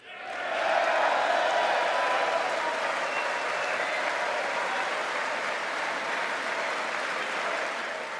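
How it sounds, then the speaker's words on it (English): A large audience applauds the president's speech with sustained, loud clapping and scattered cheers and whoops, swelling quickly and holding steady. "the president was interrupted by applause 98 times"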